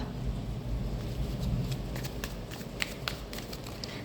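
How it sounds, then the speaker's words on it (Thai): A deck of tarot cards being shuffled, giving a continuous soft rustle over steady background noise, with a few sharper card clicks toward the end and no speech. "สับไพ่ลุ้นพลังงานไปด้วยกันเนาะ"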